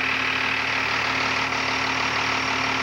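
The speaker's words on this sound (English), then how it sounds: "There's the engine back here." A tracked snow vehicle's engine idles close by, a steady, throbbing mechanical drone with a constant low hum and no pauses.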